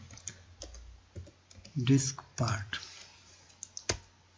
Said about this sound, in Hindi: अब आते हैं यहाँ पर कमांड लिखते हैं डिस्क पार्ट।